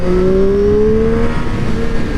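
A 2020 Triumph Street Triple RS motorcycle engine runs loud and close, its tone rising smoothly as the revs climb steadily, with no talking.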